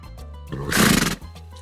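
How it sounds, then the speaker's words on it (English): A horse whinnies in a 1962 television scene: one loud, drawn-out neigh that swells in the middle and fades after about half a second, heard on its own without speech. "not anymore now that Midnight's in town, and he's a far sexier horse than Mr. Ed"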